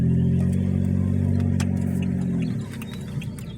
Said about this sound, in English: And I got another car up behind me.